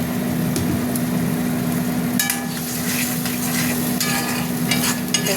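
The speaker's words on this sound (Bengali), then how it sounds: "মশলাটা ভাজা ভাজা হোক।" Spice paste of tomato, garlic and green chilli sizzling in a pan as it is stirred, a continuous close fry with scraping spoon strokes and small crackling bursts, with a low hum underneath.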